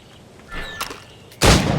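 Gunshots are fired at targets in Assassin's Creed Rogue: a couple of sharp reports, the last loud and close, with a lingering boom after it.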